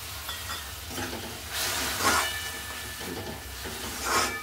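Soaked moong dal goes into frying onions, and a soft, hissing sizzle swells and fades in a few bursts while being stirred. It stays fairly quiet and close, with no talking.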